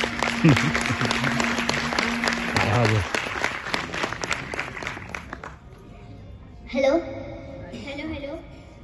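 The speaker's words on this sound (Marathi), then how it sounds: "जोरदार टाळ्या झाल्या पाहिजे" Loud, dense applause from an audience after a song by society performers at a Ganesh festival cultural program, lasting about three seconds before fading into voices and a public-address announcement.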